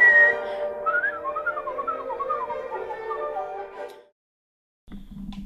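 A person whistling a quick, warbling melodic run up close for about four seconds, followed by a moment of silence and then a low background hum.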